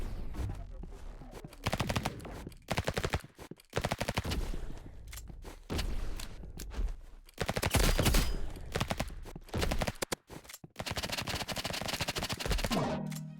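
Uzi submachine gun fire in the shooter game Rivals, played on mobile: loud, dense bursts of rapid automatic fire crackle almost nonstop, broken by brief gaps, with no one speaking.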